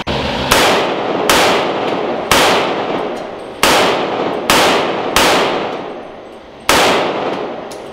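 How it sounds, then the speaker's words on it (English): Seven sharp gunshots from a gun fitted with a cheap red dot sight crack out loud and close outdoors at night by a swamp, spaced unevenly about a second apart, each followed by a short echoing tail. "So now we're just gonna shoot the rest of the rounds we have."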